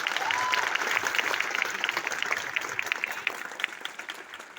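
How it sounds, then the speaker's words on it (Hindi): An audience in a hall breaks into steady, vigorous applause on a cold winter evening. Dense clapping carries through the whole stretch at an even level, with a few louder individual claps standing out and a faint voice near the start. "एक बार जोरदार ताली हो जाए आप सभी लोगों के लिए"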